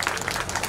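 Audience applause at the Sant Nenuram 46th Mela Utsav 2019, a brief burst of dense clapping from a crowd, fairly loud and steady throughout.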